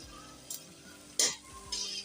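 Babool gum pieces frying in hot ghee, a low steady sizzle with a few sharp stirring scrapes of a spoon against the pan, brief and close.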